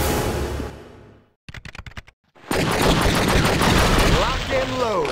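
Sniper shots in True Crime: Streets of LA come as a tight cluster of sharp cracks after a sudden drop in the noise, then heavy gunfire and action sounds swell loudly around them. A voice talks at the start.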